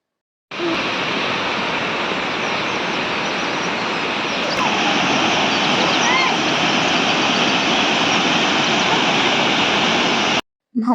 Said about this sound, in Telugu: ఇంకెందుకు ఆలస్యం వాటర్ ఫాల్ మీరు కూడా చూసేయండి